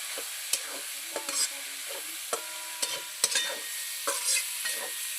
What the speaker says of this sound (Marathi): तर त्याला थोडं हलवायचं असं मसाला टाकला की